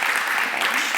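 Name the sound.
applause for the three speakers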